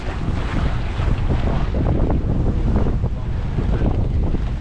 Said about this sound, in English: The wind's down a little bit, but not much, but we got all the waves